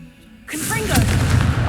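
A Confringo spell explodes in the video game Hogwarts Legacy, a sudden loud blast that bursts in after a quiet moment and rumbles on with a dense, crackling roar.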